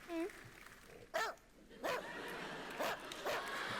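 A person imitates a dog, voicing several short, quiet bark-like yelps spaced about a second apart over a faint background.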